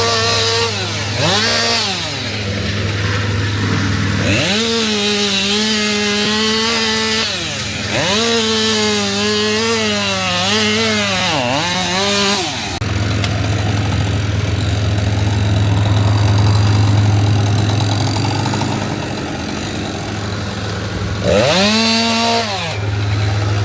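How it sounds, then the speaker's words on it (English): A chainsaw makes felling cuts in a tree, its engine revving hard in several long bursts and dropping back to idle between them, loud and close throughout. "Just going to get cleared around the tree now and put the felling cuts in."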